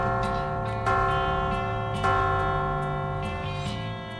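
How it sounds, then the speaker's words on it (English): Bells ring in a video game, several clear, sustained metallic tones struck one after another at a slow, uneven pace, their ringing overlapping and decaying gently with no talk over them. "So, let's ring them bells."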